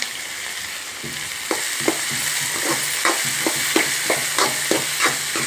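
Chopped tomato and onion sizzle steadily in a pan for upma while a spoon scrapes and stirs in a regular rhythm of sharp strokes, close and clear with no voices.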